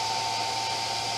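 A 4-wire computer fan spins at high RPM, around 7,000, giving a steady close whooshing drone with a constant tonal whine.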